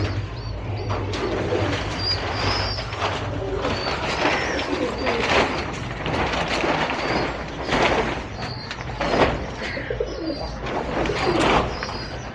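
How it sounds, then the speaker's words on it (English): Kolkata Gola pigeons coo over and over at a breeding setup in India, with many overlapping close coos and chirps and faint talk in the background. "This is Gola pigeon?"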